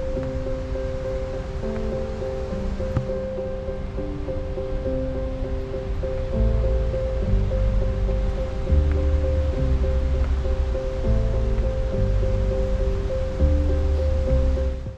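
The Trümmelbach Falls thunder inside the mountain as a constant deep roar of rushing water, loud and unbroken, with a low rumble that swells midway and a persistent tonal hum layered over it.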